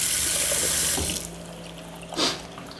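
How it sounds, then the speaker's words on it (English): A kitchen faucet in a Sprinter camper van runs into the sink with a steady broadband hiss that stops after about a second, followed by a brief splash or spray burst. "When you turn on the water"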